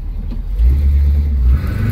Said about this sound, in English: you're riding here in my 73 Chevy